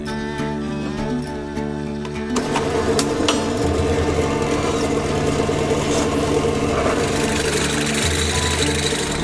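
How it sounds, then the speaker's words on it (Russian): A metal post for a yurt frame is drilled in a metalworking shop: a machine hum gives way to a louder, steady grinding drill whine with a few sharp knocks, close and continuous for several seconds. "Сейчас я сверлю стойку для соединения каркаса самой юрты."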